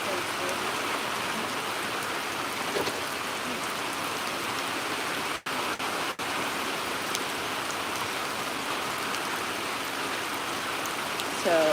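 Steady rain falls in Hawaii, a dense, even hiss of drops on surfaces that continues without a break and sits close and moderately loud.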